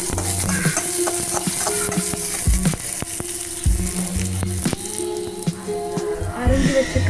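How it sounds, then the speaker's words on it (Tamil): Crushed ginger-garlic paste sautés in a pan for a potato masala, with a continuous close sizzle broken by repeated scraping stirs of a spatula and occasional knocks against the pan. "நசுக்கி வச்சுக்கிற இஞ்சி பூண்டு பேஸ்ட் போட்டுக்கலாம். நல்லா வதக்கி விட்டுக்கோங்க."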